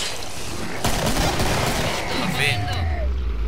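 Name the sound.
gunfire in the video game Killing Floor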